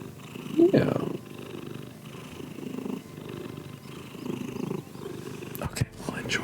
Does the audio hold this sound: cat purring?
yes